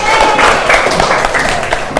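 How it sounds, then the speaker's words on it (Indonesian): Classroom applause from students rising over a steady crowd din, dense and continuous throughout with voices mixed in beneath it. "Ya, tepuk tangan buat kita semua."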